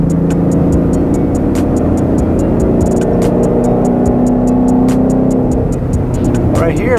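A Ford Mustang with a BAMA Rev-X tune and an aftermarket throttle body revs above 3,000 RPM, its loud, close engine note droning and slowly rising, while someone talks over it.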